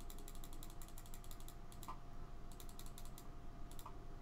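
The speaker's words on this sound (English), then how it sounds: "Shuffle deck a bunch." A card deck is shuffled in an online Cardfight Vanguard game, heard as bursts of rapid, crisp clicking that pause briefly and then resume, with no voices.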